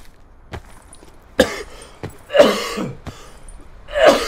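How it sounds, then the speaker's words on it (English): A man coughing and clearing his throat while gaming, several harsh separate bursts spread unevenly with quiet gaps, close to the microphone, alongside a few sharp clicks or taps. "It's actually me coughing"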